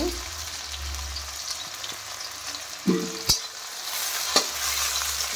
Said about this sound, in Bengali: পেঁয়াজ আর কাঁচা লঙ্কাটা দিয়ে দিচ্ছি। পেঁয়াজটা ভালো করে লাল লাল হয়ে গেলে